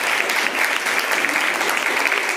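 A seated audience claps for leaders on stage at a leadership development programme, with thick, even applause from many hands filling the brief stretch.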